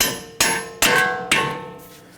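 Three sharp metallic hammer taps, evenly spaced and ringing briefly, drive a strut bolt through on a 2009-2015 Honda Pilot front strut job.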